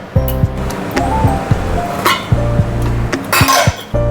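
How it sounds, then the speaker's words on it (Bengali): Clanks and clinks of a steel pressure cooker lid and pots being handled in a home kitchen after cooking egg pulao, a series of sharp metallic knocks and rattles, close and fairly loud, with no talk. "এবার প্রেশার কুকারটা খুলবো"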